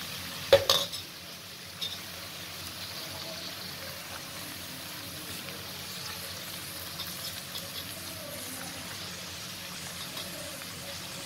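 Chopped bottle gourd drops into a pan of softened tomatoes with a brief clatter, then a quiet, steady sizzle carries on with faint stirring scrapes, and no one talks.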